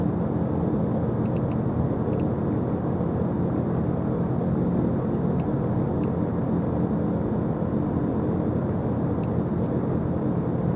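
Piston engines of a Lockheed L-1049 Super Constellation airliner in Microsoft Flight Simulator hold a dense, even rumbling roar while taxiing, with faint clicks of cockpit switches.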